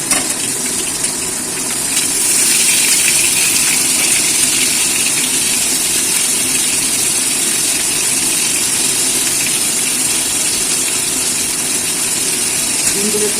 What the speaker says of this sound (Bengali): ডিমগুলো একটু লাল করে ভেজে নেবো